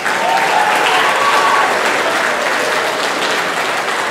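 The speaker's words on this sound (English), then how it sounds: "A big round of applause for the outstanding musicians." At a band banquet, a large audience gives loud, sustained applause for outstanding musicians, a thick and steady roar of clapping that fills the space without pause, with a faint whistle or cheer riding over it early on.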